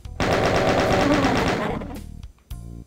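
Rapid automatic gunfire from a weapon in the video game Doom II, a loud steady burst of repeated shots for about a second and a half, trailing off, then a short separate blast near the end.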